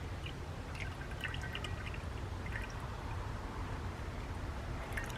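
Blueberry cucumber gimlet cocktail being strained, liquid trickling and dripping steadily through a pulpy strainer, soft and continuous close to the mic with a low background rumble.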